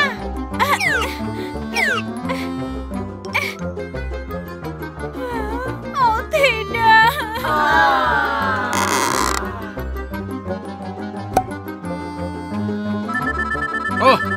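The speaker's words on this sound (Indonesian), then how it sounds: "ada panggilan telepon" Telephone ringing in a children's police cartoon, a bright electronic ringtone melody of repeating tones and chirps, loud and continuous, mixed with cartoon effects and music.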